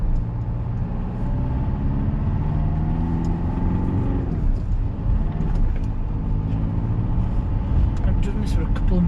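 A 2009 Mercedes-Benz W204 C-Class with a left rear ABS sensor ring fault on a test drive, heard from inside as a steady low engine and road hum with a slight shift in pitch partway through.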